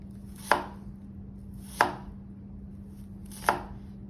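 Three crisp knife strokes through an onion on a cutting board, each sharp chop spaced about a second apart, slicing it into long julienne strips for chili, over a steady low background hum.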